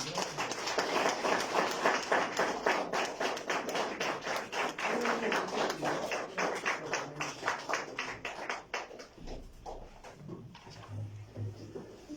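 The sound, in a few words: congregation applauding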